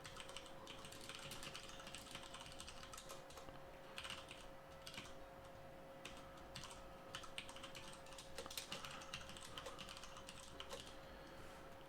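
Typing on a computer keyboard while coding, a quiet, continuous patter of key clicks in irregular bursts, heard close in a calm room with a faint steady hum beneath and no speech.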